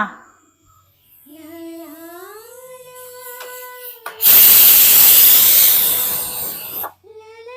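A pressure cooker in a home kitchen gives rising whistle tones, then bursts into a loud, sustained hiss of escaping steam for nearly three seconds before cutting off, with a brief whistle returning at the end.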